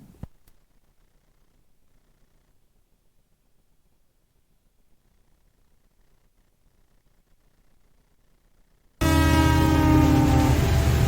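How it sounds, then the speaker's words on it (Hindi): After a long stretch of near silence, a train horn suddenly blares, loud and sustained, with echoing, rumbling rail noise. "दूर गूंजता ट्रेन का हॉर्न, जो आज भी मुझे अपनी ओर खींचता है"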